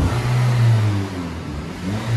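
A stock 2014 Honda Civic Si engine revs up close, a brief rising drone that peaks and settles over a couple of seconds, heard alone.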